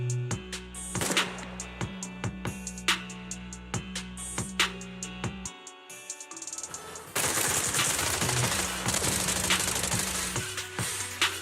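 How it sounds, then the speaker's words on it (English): Rapid bursts of video game gunfire, suppressive marching fire with repeated sharp shots over a steady mechanical drone, dropping out briefly before a denser, noisier stretch of shooting returns. "Gunfire? This pattern. Suppressive marching fire."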